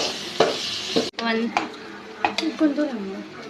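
Beaten eggs being whisked in a bowl for noodles, heard as quick clinking utensil strokes with a light sizzling background and some faint voiced sounds mixed in.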